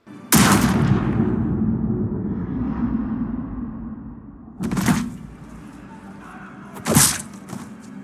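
A sharp gunshot cracks out in a tense Mass Effect scene as a Cerberus agent fires at Commander Shepard, a loud close report followed by a second and third impact-like crack over a low rumbling ambience.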